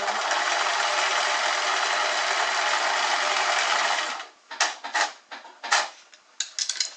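A sewing machine stitches a zigzag hem on stretch fabric, running in one loud, steady continuous whir close by, then breaking into short stop-start bursts of stitching.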